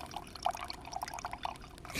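Iced coffee dribbling from a container on a porch, faint irregular splashes and drips in small bursts, quiet and close with no voices.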